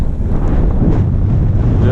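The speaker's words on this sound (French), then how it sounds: "Le vent ici il frappe fort." Strong wind on an autumn lake batters the microphone in a loud, dense, low rumble that holds steady for the whole brief moment.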